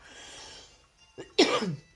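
One short, harsh cough up close, preceded by a quick throat sound, with quiet room noise before it.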